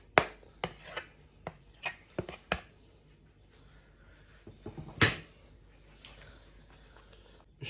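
Knife finely chopping potato on a board for a mayonnaise salad with cheese and egg: a run of sharp, close taps in uneven bursts, then a pause and a few louder isolated chops, with no talking.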